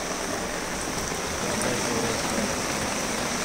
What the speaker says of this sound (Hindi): अभी तो ज़्यादा ही ज़ोरदार चालू हो गया है बारिश